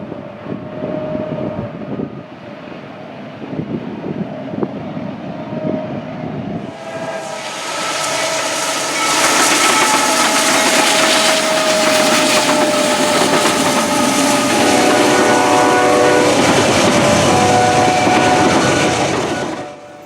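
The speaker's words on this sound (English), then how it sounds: "ACCs are often distinguishable by the loud howls that come from their turbochargers" A GE AC4400CW diesel locomotive rumbles nearby, then under heavy load its engine rises to a loud, sustained roar with a high turbocharger howl that holds steady before fading.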